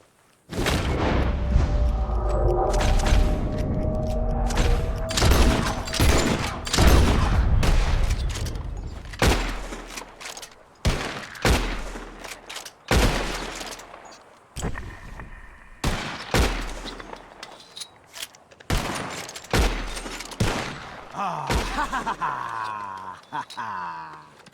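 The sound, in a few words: gunshots shooting birds in video game Red Dead Redemption 2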